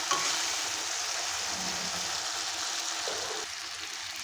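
Chicken pieces sizzling steadily in hot frying masala for gandharaj chicken, a continuous close crackling hiss with a slight drop near the end.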